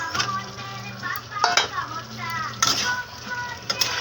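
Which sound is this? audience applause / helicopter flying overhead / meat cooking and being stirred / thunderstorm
meat cooking and being stirred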